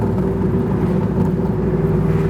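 Superformance MkIII Cobra R with a 5.2 Aluminator engine rumbling loud and close, a steady low exhaust drone with faint crackling pops as it decelerates.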